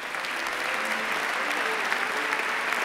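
A graduation ceremony crowd applauds the graduates with dense, steady clapping from a large audience, sustained and fairly even throughout.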